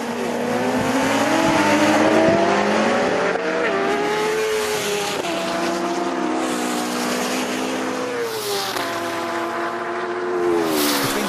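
Ariel Atom V8, 600bhp rallycross Citroen DS3 and BMW HP4 superbike racing a standing quarter-mile, engines roaring loud and continuous with rising, shifting revs and passing surges, brief tyre squeal, no talk.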